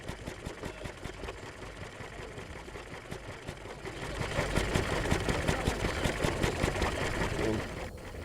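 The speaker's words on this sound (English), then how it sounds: "Just injecting some water into the boiler" Steam traction engine at a steam rally with water being injected into its boiler, a steady mechanical chugging and hiss that swells louder midway and holds for several seconds before easing.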